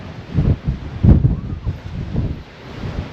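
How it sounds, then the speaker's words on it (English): Strong night wind on the summit of Snowdon buffets the microphone in loud, uneven low gusts and roars, with no voices. "The wind up here is horrendous."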